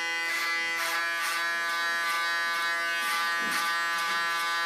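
Electric hair clippers cutting a long-front bob, a steady close-up mechanical buzz with rich harmonic whine and a slight roughness as hair catches between the blades, heard alone.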